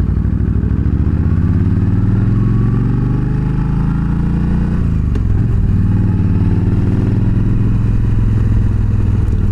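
A motorcycle's exhaust with a drilled baffle drones loud and steady up close while riding uphill, its deep rumbling note shifting briefly as the rider changes throttle midway.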